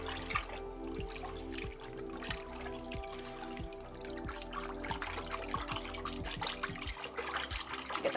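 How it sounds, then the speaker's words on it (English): Liquid pottery glaze swirls and sloshes steadily in a bucket as it is stirred, a continuous close wet churning with a low rhythmic pulse underneath and no voices. "Stir it up."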